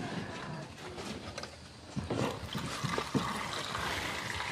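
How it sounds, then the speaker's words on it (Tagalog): Water is poured while preparing a banana dish, with trickling and splashing bursts over faint background voices and noise. "lagyan natin ng tubig"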